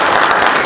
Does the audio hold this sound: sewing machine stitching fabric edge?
no